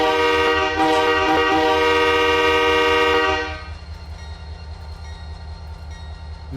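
K3 air horn on a Santa Fe SD45 locomotive in the Run 8 train simulator blares loud and steady for about three seconds, then cuts off, leaving the low rumble of the idling diesel.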